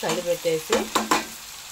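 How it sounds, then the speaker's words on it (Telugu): Tomatoes cook in a hot pan for a raw mango pulusu, sizzling and frying while being stirred. A few short scraping strokes break through the steady hiss, up close. "టమోటాలు కూడా వేసి బాగా కొంచెం మగ్గనివ్వండి ఫ్రెండ్స్"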